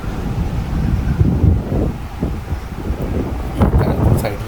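Steady wind buffets an open deck of a ferry on a calm open sea between Belfast and Glasgow, a constant broadband rush near the microphone with brief louder gusts, surf faintly mixed in.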